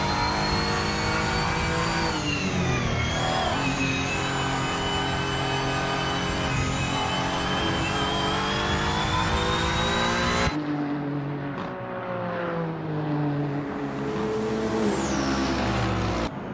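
GT3 race cars in a racing game at Sepang roar past with sustained, loud engine whine and shifting pitch, a dense pack of cars racing continuously before the tone drops and thins as the field moves on.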